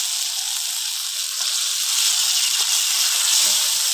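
Pointed gourd (potol) goes into hot spiced oil for a vegetarian chana potol dish, and a steady close sizzle and hiss builds slightly louder partway through.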